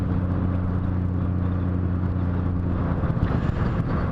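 Steady road traffic rumbles along a scenic route in Norway on the way to Å, a continuous low engine drone of passing cars with no break or voices.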